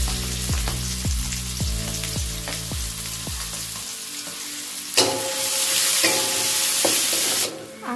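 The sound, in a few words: chili, red onion and spring onion frying and being stirred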